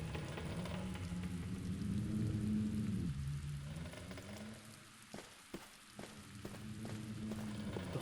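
Steady rain and cold wind blow in through a broken window hole in a room with a damaged wooden ceiling in the Black Mirror video game, a continuous dense hiss with a few sharp drips or knocks.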